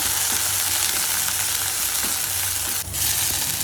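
Chili fries in a hot pan with a dense, continuous sizzle while it is stirred, the faint scrapes of the stirring audible through the steady crackle and no voices.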